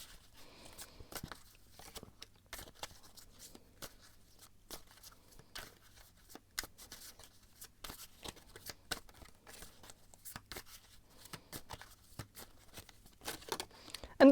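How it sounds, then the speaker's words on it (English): Soft, rapid crisp clicks and riffles of tarot cards being shuffled by hand, close up and continuous, with occasional brief pauses and no voices. "I'm going to shuffle a little bit more"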